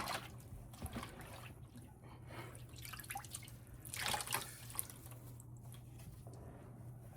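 Tie-dye-soaked fabric dipped into dye, with liquid dripping and trickling in soft, irregular spatters over a low steady hum, growing a little busier near the middle.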